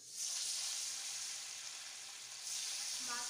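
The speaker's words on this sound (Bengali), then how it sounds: "ভাজা করে নেব মাছগুলোকে" Fish fry in hot oil in a pan, giving a soft, steady sizzle that swells slightly near the end, fairly quiet and without talk.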